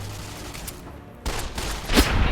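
Gunfire in the Fallout video game: a dry burst of shots erupts, then a louder crackling volley swells toward the end, close and harsh against a noisy game background.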